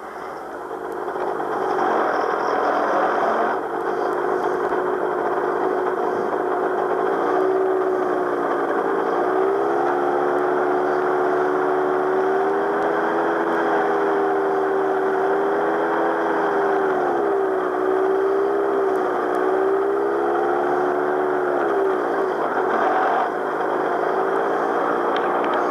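Gyroplane engine idling on the ground after pre-rotation, a steady droning rumble with a wavering pitch that rises and falls as the throttle is worked, loud and continuous with no talk.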